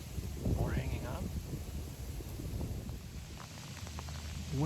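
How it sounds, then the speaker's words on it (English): Rain falls outdoors during a hunting trip, a steady soft hiss of drops that runs throughout at moderate level, with someone talking briefly over it near the start. "It's starting to come down pretty good right now."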